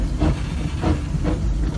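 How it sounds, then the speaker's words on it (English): A steady, loud hiss of steam escapes from the cylinder drains of a Disneyland Railroad steam locomotive, a continuous roar that swells faintly in a slow pulse and has no speech over it. "all this steam you see coming out, I have what's called the drain zone. I just closed it."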